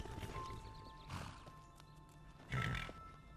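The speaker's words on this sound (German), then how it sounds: "Oh, Pferde." Horses in the fantasy video game Enderal snort and whinny in short bursts over a low game ambience, fairly quiet, with a louder neigh near the end.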